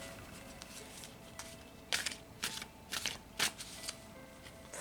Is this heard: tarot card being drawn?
yes